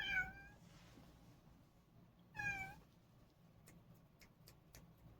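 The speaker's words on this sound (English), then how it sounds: "That's the cat, he's crying." A house cat gives two clear, drawn-out meows a couple of seconds apart, followed by a run of faint, evenly spaced ticking clicks in a quiet room.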